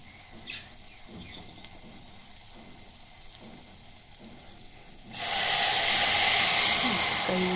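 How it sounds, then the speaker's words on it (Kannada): Tamarind juice poured into hot seasoning for saaru sets off a sudden loud, close steam hiss and sizzle that bursts in after a quiet stretch and holds steady to the end. "ಅದು ಕುದ್ದಿದೆ ಸ್ವಲ್ಪ ಪಳ ಪಳ ಅನ್ನೋದು ಸೌಂಡ್ ಬರುತ್ತಲ್ವ"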